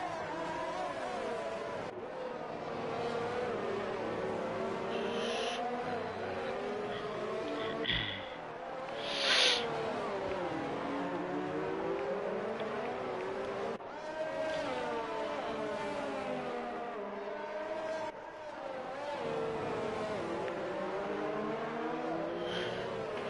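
Formula 1 race cars in F1 2019 at the Brazilian Grand Prix scream past in rising and falling engine sweeps, a steady stream of high revving with gear-shift dips, loud and close throughout.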